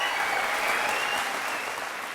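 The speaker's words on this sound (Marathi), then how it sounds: "राणी, तुमचं बोलणं आणि या लोकांच्या टाळ्या ऐकून असं वाटतंय की लोक हा सिनेमा बघायला नक्कीच जातील" Studio audience in a TV courtroom-style talk show applauding steadily, a dense wash of clapping held at even loudness from start to finish with no voices over it.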